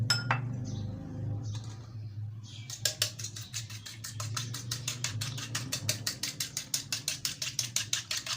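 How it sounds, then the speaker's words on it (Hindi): Egg, sugar and milk are whisked together in a bowl. After a quiet start, a utensil strikes the bowl in quick, evenly spaced clinks that grow steadier and brisker toward the end, with no talking. "इसको अच्छे से मिक्स करेंगे ताकि अंडा, चीनी और दूध अच्छी तरह से मिक्स हो जाए।"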